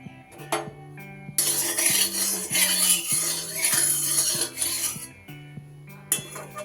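Broccoli stirred in hot oil in a wok, with a steady scraping and sizzling rasp of a utensil against the pan running through most of the stretch, close and moderately loud.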